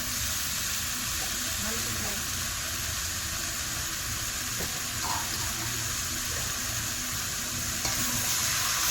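Cleaned snails being stir-fried in a pan, a continuous close sizzle with occasional scraping and stirring, while a voice talks faintly underneath.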